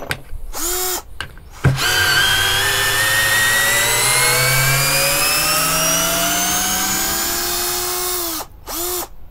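A Parkside PBSA 12 D4 12V cordless drill, its motor running warm, whines in a few short bursts, then runs for a long loud stretch whose pitch sags before it stops. Two more quick revs follow.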